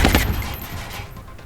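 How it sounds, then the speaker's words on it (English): Video game gunfire sounds as a dense, loud burst of rapid shots at the start, then trails into a rumbling wash of echo and distant firing. "the drumbeat of gunfire going off"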